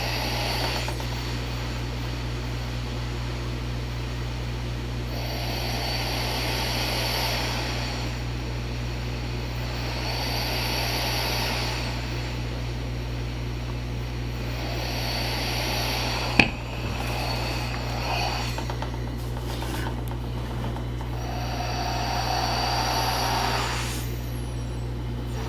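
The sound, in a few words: Transcend Micro CPAP machine running on Go battery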